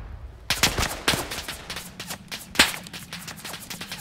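Gunfire in the WWI video game Tannenberg: sharp, loud rifle and machine-gun shots crack in irregular bursts, some close and some distant, over a low background rumble.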